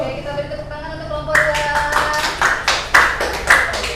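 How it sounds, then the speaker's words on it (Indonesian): A classroom audience breaks into applause for a presentation group, a burst of several hands clapping loud and close after a brief voice at the start. "Oke, kita beri tepuk tangan untuk kelompok"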